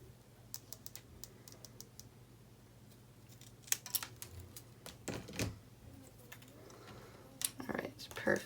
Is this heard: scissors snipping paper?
yes